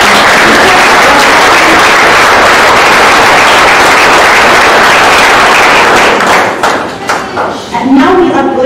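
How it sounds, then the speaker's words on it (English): Audience applause at an awards ceremony: dense, loud clapping fills the room continuously, then thins into scattered claps and thumps near the end as a voice begins speaking. "Now we are going to give a big round of applause to all our academic"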